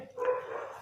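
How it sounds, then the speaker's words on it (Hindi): Dogs barking somewhere outdoors, a single blurred, wavering bark-like burst lasting under a second at moderate distance, with no speech over it. "कुत्ते भौंक रहे हैं"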